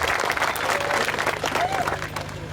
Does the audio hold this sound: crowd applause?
yes